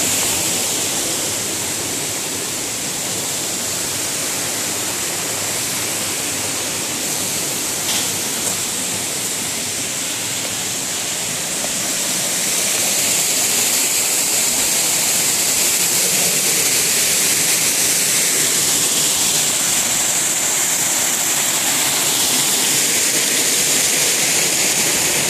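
Water at a swimming pool and hot tub makes a steady, broadband rushing wash that runs continuously and fairly loud, swelling slightly partway through, with no talk.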